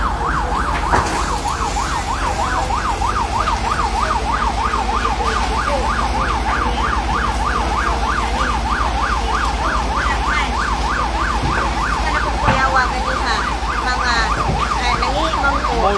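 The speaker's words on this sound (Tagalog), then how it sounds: "Tulo ka buok fire truck ang naabot." Fire truck sirens wail as the trucks arrive at a fire on New Sangi Road in Pajo, Lapu-Lapu City, Cebu, a loud rapidly warbling electronic siren that cycles without pause over a constant engine and street rumble.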